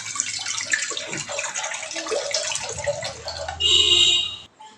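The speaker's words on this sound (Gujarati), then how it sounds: "હવે કુકરમાં હવે થોડું પાણી એડ કરશું" Water poured into a pressure cooker holding salted bitter gourds for a stuffed karela curry, a steady close splashing stream that swells louder near the end, then cuts off.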